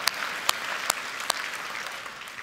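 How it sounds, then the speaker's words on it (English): Audience clapping at a church talk on marriage, a steady crowd patter with a few sharper individual claps standing out, moderately loud and even throughout, with no voices over it. "look at y'all clapping"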